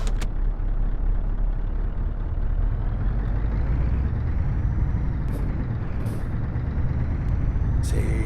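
Scania truck engine in Euro Truck Simulator 2 on a UK drive, a steady loud low diesel rumble running throughout, with a few brief hissing air-brake bursts near the start and end.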